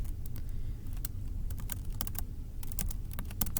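Rapid typing on a computer keyboard, a steady stream of light key clicks with a low hum underneath.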